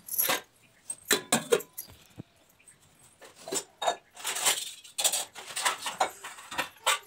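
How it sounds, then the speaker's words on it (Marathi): Metal dishes clatter and clink in quick irregular bursts as they are set down and stacked, with brief quiet gaps between handfuls, no talking. "चला आपण भांडी पटपट पालती घालून घेऊया खाडबाड करत करत."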